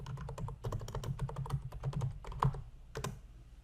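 Rapid typing on a computer keyboard while entering a weekly meal plan into a meal-planning app, close and clear, with irregular bursts of clicking keystrokes and short pauses.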